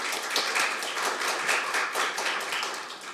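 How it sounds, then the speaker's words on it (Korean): Warm round of applause in a hall during a Korean public hearing on an income protection law for child entertainers, many hands clapping steadily at a moderate level for about three seconds. "여러분 좋은 말씀 전해주신 정준호 이사장께 다시 한번 큰 박수 부탁드리겠습니다."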